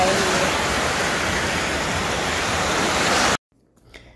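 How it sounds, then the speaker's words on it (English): Ocean surf at the beach in Destin, Florida, makes a loud, steady broadband wash of breaking waves close by, running continuously and then cutting off abruptly near the end. "There's a good amount of waves, so the kids have a lot of fun."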